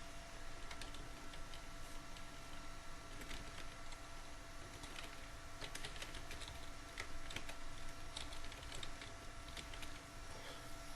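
Steady clicking of a computer keyboard as Python code is typed, a continuous run of quick keystrokes with no talking.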